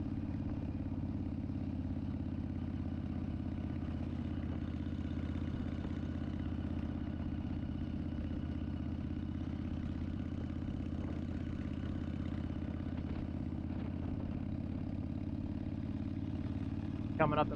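A Yamaha V Star 1300 motorcycle cruising on a road in Maine gives a steady, close low engine drone with rumbling layers that holds unbroken throughout.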